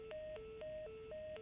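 Dual-tone telephone keypad beeps in The Last of Us, a steady run of about six evenly spaced tones alternating between two pitches, quiet and clean with no voices over them.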